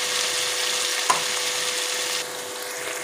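Eggplant pieces stirred into sizzling tomato paste in a pan give a continuous close frying hiss, with a single spoon tap early on and the sizzle easing slightly in the final second.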